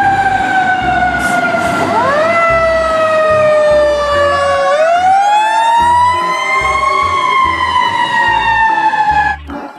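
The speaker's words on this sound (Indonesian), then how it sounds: "Yang ini mobil pemadam kebakaran." A loud toy fire truck siren wails continuously, its pitch rising and falling in long sweeps, with a low engine rumble underneath.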